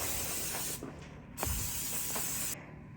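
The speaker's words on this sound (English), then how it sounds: "we need to spray these pans" Cooking spray hisses onto cake pans in two bursts of about a second and a half each, close and steady, with a soft clatter between them.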